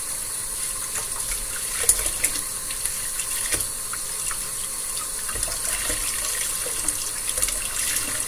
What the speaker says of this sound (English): You're gonna rinse it with water.